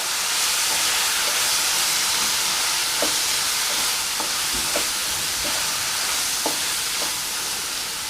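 Chicken pieces frying in oil with freshly ground masala mixed in, a loud continuous hissing sizzle with soft periodic clacks of a spoon stirring the pan.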